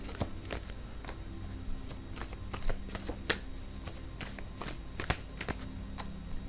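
Tarot cards being shuffled and drawn from the deck close up, a run of quick riffling flutters and soft slaps of cards that come in irregular bursts, quiet and with no talking.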